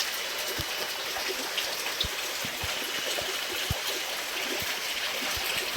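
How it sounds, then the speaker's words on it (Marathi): Rain falls steadily in a hilly village near Dodoni, a continuous soft hiss with scattered individual drops ticking sharply on a nearby surface, with no voices. "बघा मित्रांनो, पाऊस बघा"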